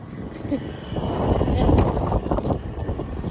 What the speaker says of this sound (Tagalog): Malakas ng hangin.